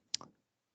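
A single quiet computer mouse click, one sharp tick followed by a softer release, alone in an otherwise silent room.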